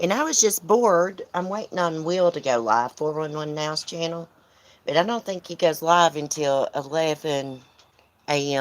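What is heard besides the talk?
None of the usual background noises is heard.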